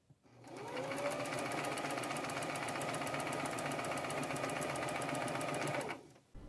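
A sewing machine stitches the two side seams of a modern chemise in one steady, continuous run of about five seconds. It is close and even, then stops abruptly, with no talk.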